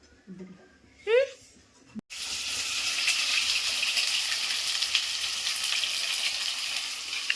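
Steady tap water gushes for several seconds while mutton is washed in a home kitchen. A few short bird-like chirps and a knock come first, then loud continuous running water.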